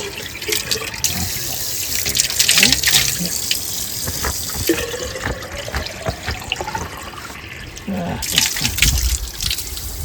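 Spring water from a roadside spring on the Khizi road, a steady close splashing and trickling flow, moderately loud throughout, with people talking faintly underneath.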